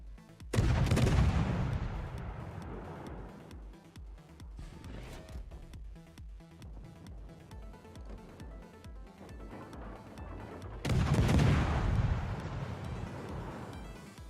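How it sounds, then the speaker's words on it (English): The battleship New York firing HE shells in World of Warships, heard as two heavy booming blasts about ten seconds apart, each rolling off into a long rumble. "Oh, good, the New York is firing HE at me"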